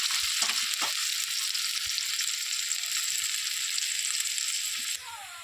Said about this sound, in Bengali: এবার আমি পেঁয়াজটা বেশ ভালো করে একটু লাল লাল করে ভেজে নেব